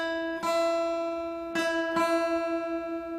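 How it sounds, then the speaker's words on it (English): Two guitar strings slightly out of tune, plucked together so their ringing tones beat with a wavy wobble; three close plucks sustain and fade, with no talk. "Do you hear that? Kind of a wavy sound."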